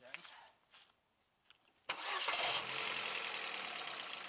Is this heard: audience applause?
no